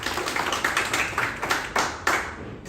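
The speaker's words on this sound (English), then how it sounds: "And a clap for everyone." An audience at a community-building talk claps, sparse and uneven individual claps that come in loose bursts rather than a full roar, fairly close and moderately loud.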